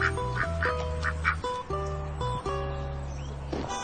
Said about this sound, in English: I'm just taking the geese for a walk, dear.